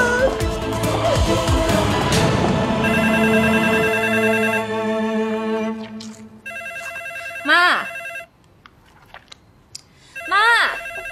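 A household telephone rings loudly with a steady electronic tone for several seconds, then stops, followed by short voices speaking nearby.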